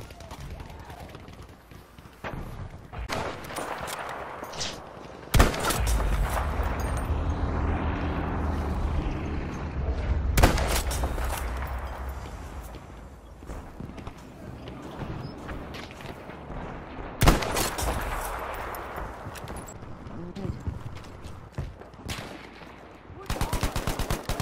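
Gunfire in Battlefield 5 Breakthrough mode, with sharp shots and rapid bursts arriving in irregular clusters, some close and loud, others more distant, over rumbling ambience.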